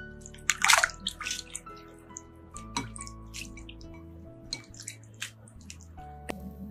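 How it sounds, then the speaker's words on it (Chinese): Raw shrimp are rinsed in a bowl of clean water, with close splashes, drips and sloshing in uneven bursts between quieter moments. "然后倒入适量的清水，把虾清洗一下"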